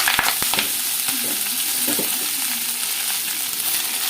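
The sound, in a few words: frying drumstick leaves in oil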